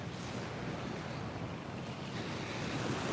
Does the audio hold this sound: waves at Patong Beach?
yes